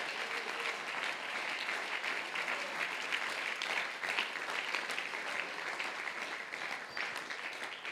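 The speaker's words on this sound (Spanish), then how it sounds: "Dele ese aplauso fuerte al Señor." A congregation at a men's church congress claps loudly and continuously, a dense, sustained roar of applause for several seconds.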